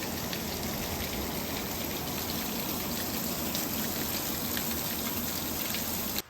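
Steady, dense rain pours down without a break, a broad hiss of drops on a surface at a roofing job site, holding at the same loud level until it cuts off at the very end.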